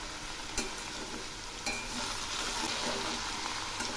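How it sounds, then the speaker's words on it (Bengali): Kharkol leaves with salt and turmeric being stirred as they fry in a pan, a steady close sizzle with a few sharp utensil scrapes against the pan. "এগুলি এখন নেড়ে দিচ্ছি।"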